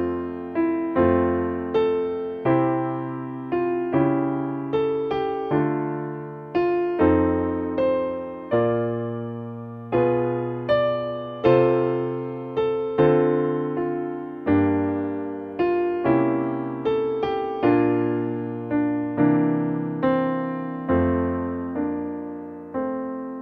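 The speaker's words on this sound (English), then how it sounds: "I'm going to show you guys how to play a piano arrangement of Auld Lang Syne." A solo piano arrangement of Auld Lang Syne, played at a steady, gentle pace with clear melody notes over chords, each phrase ringing and decaying in turn with no voices.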